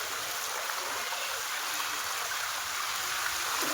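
Clear mountain water in a stream near Junagadh's Girnar trekking route flows constantly, a dense, even rushing hiss close by with no pauses.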